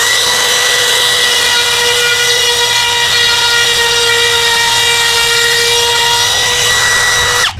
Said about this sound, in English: Overhang, which I will just route off. This spiral bit is one of my favorites for doing something like this.